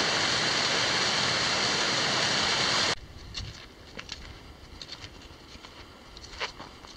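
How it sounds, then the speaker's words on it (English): Small mountain creek on the Pine Creek Pass trail, loud rushing water filling the first three seconds, then cutting to a faint trickle with light splashes and patter. "Here's another little creek crossing."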